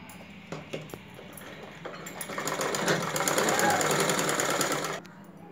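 An electric sewing machine stitches a sleeve onto a blouse body, starting with a few short bursts and then running in a long steady whir before stopping abruptly.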